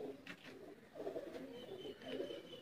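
Dab pigeons, a Sialkoti breed kept by a breeder, coo softly in low, rolling phrases close by, with faint chirps in the background and no talk.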